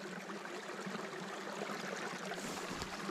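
A stream flows near a remote off-grid trapper's cabin in winter in northern British Columbia, a faint, steady wash of running water with no voices.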